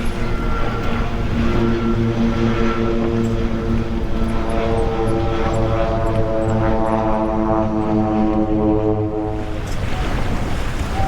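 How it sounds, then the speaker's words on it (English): A propeller plane taking off near Simpson Bay Bridge, St. Martin, roars steadily with a droning, harmonic engine hum, loud and sustained, over a wash of wind or water noise, then eases slightly near the end. "Plane taking off."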